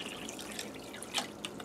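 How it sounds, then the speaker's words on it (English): Hot water from a gallon container poured into another container to dissolve soda ash for tie dyeing, a steady close splashing trickle with dripping, no talk. "just pour my water in, and I use hot water"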